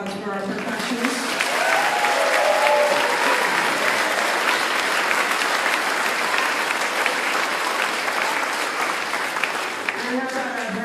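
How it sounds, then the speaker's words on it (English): A large crowd at a school choir concert applauds the percussion section, sustained loud clapping throughout, with a voice speaking over it at the start and end and brief tonal sounds beneath. "Would you give a round of applause for our percussionists?"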